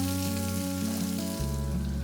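Fish for a Tamil fish pirattal sizzles steadily in a pan, a close, continuous frying crackle with a low hum beneath that shifts in tone partway through.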